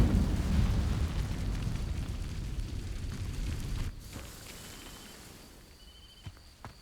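A fire spell in the Hogwarts Legacy video game ignites dry vines with a loud roaring whoosh of flame that rumbles for a few seconds, then cuts off and fades to quiet crackles.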